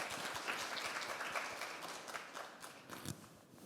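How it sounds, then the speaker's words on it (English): A conference audience claps in applause, a faint, brief patter of many hands that thins out over a few seconds. "Let's give a round of applause to Dian."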